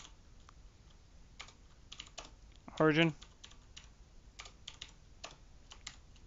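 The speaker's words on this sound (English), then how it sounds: "I'm typing git push" Quick, light keystrokes on a computer keyboard tap along steadily at close range while a voice speaks briefly in the middle.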